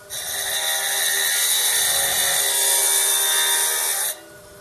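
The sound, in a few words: saw cutting Mintabie opal specimen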